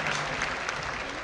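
A crowd claps in playback from a video, a brief burst of dense applause heard at moderate volume for about a second.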